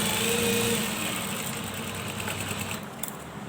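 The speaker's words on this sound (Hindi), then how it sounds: "अब ट्रेस की हुई लाइन के ऊपर आपने स्टिचिंग करनी है।" Sewing machine stitching along a traced side line of a ladies' kameez neckline, a steady fast mechanical whir with a constant tonal hum, close and even throughout, slowing slightly near the end with no speech.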